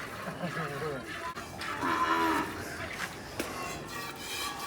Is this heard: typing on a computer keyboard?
no